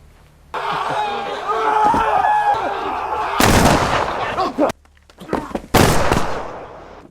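Gunfire in a samurai action film bursts in as loud, sharp volleys over a dense cinematic score, with two heavy blasts a couple of seconds apart and a short lull between them.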